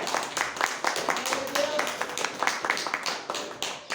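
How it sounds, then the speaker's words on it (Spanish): A church congregation claps in praise to God during a Spanish-language service, a steady stream of scattered hand claps from many people that runs throughout, with voices mixed in beneath. "¿Le puede dar un aplauso a Dios?"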